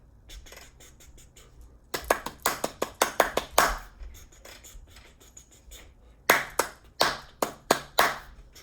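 Two bursts of sharp percussive mouth clicks in quick rhythmic patterns, separated by a pause, fairly close and crisp.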